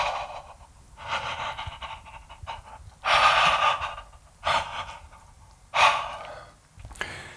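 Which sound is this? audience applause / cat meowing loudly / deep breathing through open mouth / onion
deep breathing through open mouth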